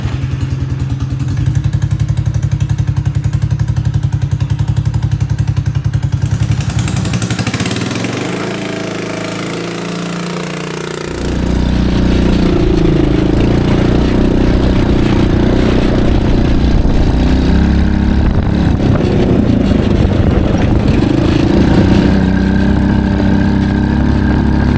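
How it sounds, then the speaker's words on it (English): A car engine cranks and catches, then settles into a steady, loud, clattering idle that continues close by after a brief dip, with no talking over it. "let's see if we can start it and drive it."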